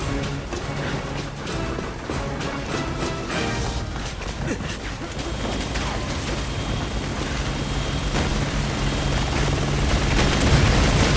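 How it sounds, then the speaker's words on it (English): Attack helicopter in the video game Resident Evil 6, a dense, roaring rotor and engine wash mixed with battle rumble and crashes, loud and continuous throughout and swelling toward the end, with no voices over it. "The chopper's targeting us now!"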